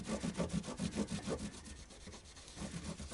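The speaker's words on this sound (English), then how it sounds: "I'm getting the bulk of the marker pen off first, off the frets" A cloth soaked in naphtha is rubbed back and forth over the frets of a Yamaha Pacifica 112 MX guitar to strip marker pen, a close, steady scrubbing in quick strokes that pauses briefly midway before resuming.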